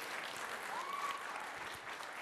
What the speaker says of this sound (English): let's give him and my grandmother a big round of applause.